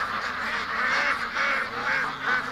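A flock of ducks quacks and honks repeatedly at close range as they rush toward a person on a homestead, their calls overlapping in loud, uneven bursts.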